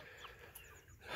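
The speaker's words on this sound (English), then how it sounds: "You guys are still chirping. Some of you starting to cluck." Young chicks chirp and make early clucks at close range, soft, quick calls over a low background hum, with a louder rise at the very end.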